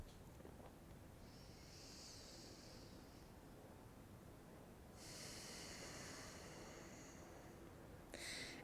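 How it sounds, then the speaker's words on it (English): Slow Ujjayi breathing during a warming yoga flow, two long hissing, throaty breaths of several seconds each with a short pause between them, close and soft over a faint steady background. "that Ujjayi breath is a great way to warm up when you're maybe at work"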